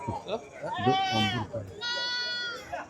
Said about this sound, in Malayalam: നല്ല ആട് നല്ല ആട് കുട്ടിയാണ്